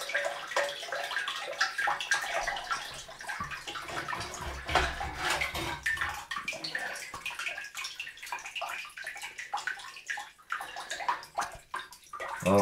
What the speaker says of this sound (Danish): Der står det i en stor stråle op der nu